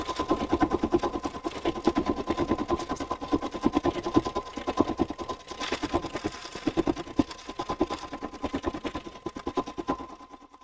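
An embroidery machine stitches thread in a fast, steady mechanical rhythm, close and continuous for about ten seconds, with a faint whine running underneath until it stops at the end.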